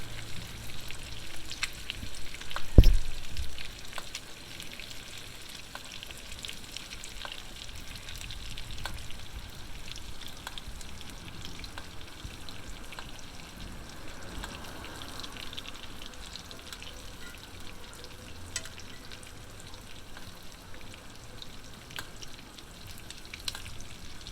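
Pork chops fry in butter in a cast iron skillet with a steady, close sizzle and crackle, plus one dull knock near the start and no voices.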